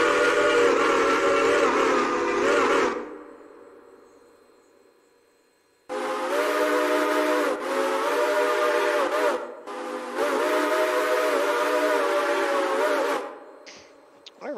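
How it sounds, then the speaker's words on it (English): A Southern Pacific 6-chime train whistle from the Railroader game mod sounds in several loud chord blasts: one long toot, a pause, then two more long blasts nearly back to back with a short gap. "Oh, we have an SP 6 chime."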